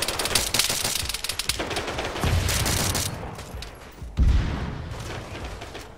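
Sustained machine gun fire in a Halo battle, loud rapid bursts with heavy low booms, a sharp blast near the end.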